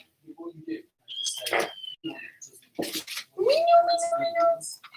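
A cat in an art studio gives a couple of meows, the last one long and rising, mixed in among softer chirps and scattered shuffling noises close by.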